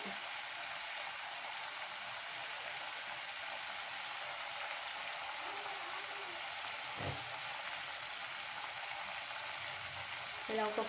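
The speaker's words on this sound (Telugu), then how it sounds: "దీంట్లో ఉన్న పచ్చి వాసన కొంచెం పోయేంత వరకు ఫ్రై చేసుకుంటే చాలు." Mutton kheema balls fry in a pan with a steady, close sizzle that hisses evenly throughout, with a brief knock near the end.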